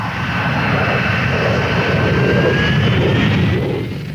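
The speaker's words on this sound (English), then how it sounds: "Harriers almost always make a short rolling takeoff, though with a restricted load, they could lift off vertically." Harrier GR3 jet aircraft taking off, a loud, sustained roaring engine with a rising whine that swells and then slowly fades near the end.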